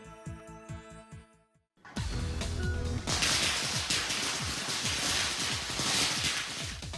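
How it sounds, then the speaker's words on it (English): Dense, relentless crackling of one million firecrackers bursting at once, a loud continuous barrage after a brief pause, with sharp pops layered throughout. "American Legion Post 297 in Union set off 1 million firecrackers last night"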